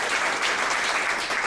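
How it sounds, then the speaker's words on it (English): A short burst of dense, steady clapping from a tech talk audience welcoming a speaker, loud and continuous with no voices over it. "big round of applause for Stephen."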